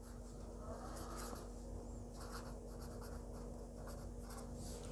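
Marker or chalk writing a word on a board in a classroom lecture, a few soft scratchy strokes in short bursts over a constant electrical hum, with no speech.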